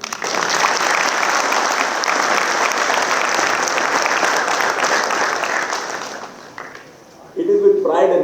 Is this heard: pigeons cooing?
no